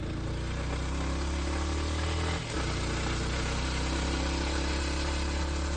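A motorcycle engine runs in second gear on a ride through hills near Vellore, a loud, steady mid-pitched drone with a brief dip in the middle.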